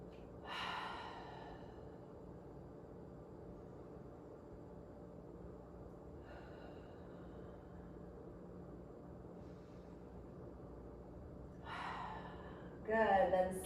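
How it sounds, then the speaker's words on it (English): Slow, deep breaths during a yoga core session in seal pose; three soft, drawn-out inhales or exhales spaced several seconds apart over a quiet room hum. "Let's take 3 slow, smooth breaths."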